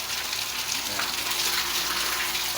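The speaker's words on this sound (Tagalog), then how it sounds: "Nandun yung water pump natin sa itaas." Water gushes from a deep well pump into a concrete tilapia breeding pond, a loud steady rushing splash filling the scene, with someone briefly speaking over it.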